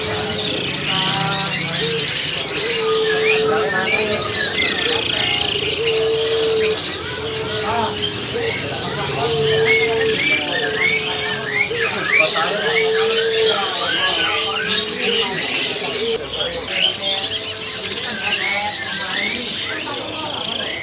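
A prized songbird, kept in Sumatra, sings rich, varied phrases of whistles and chirps repeated across the stretch, loud and close, with people talking quietly alongside and steady background ambience.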